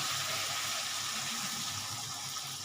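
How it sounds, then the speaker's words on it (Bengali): Water pours into a hilsa fish curry with potato, eggplant and pumpkin, producing a continuous close splashing rush that stays fairly even throughout, with no talking. "এবার আমি একটু জল দিয়ে দিচ্ছি"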